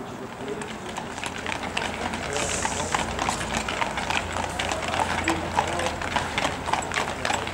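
Horse-drawn carriage in Pontresina, with hooves clip-clopping in a brisk, steady rhythm close by, as a voice talks over the sound.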